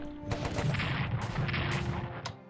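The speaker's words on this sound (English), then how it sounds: "Well, oh, artillery." Artillery fire in the Strategic Command WWI strategy game: a dense barrage of overlapping booming blasts rolls continuously for a couple of seconds, loud and close, with no talk.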